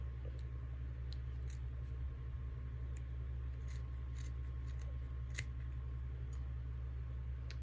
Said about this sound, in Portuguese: Agora é só cortar as pontinhas.